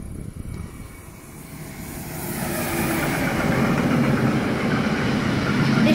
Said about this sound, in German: Ich hoffe mal, das war eine Baureihe 185. Mit gemischtem Autozug.